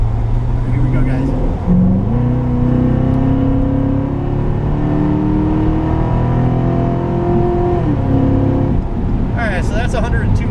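A 2014 Corvette Stingray Z51 accelerates at high speed, heard from inside. Its engine drones loud and steady, rising in pitch through the gears with a brief shift dip, and wind roar runs under it.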